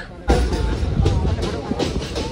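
Aboard the Ganadevta Express on the Howrah to Rampurhat line, the train rumbles along with a deep, steady roar and faint rhythmic rail clicks, loud and close from inside the coach.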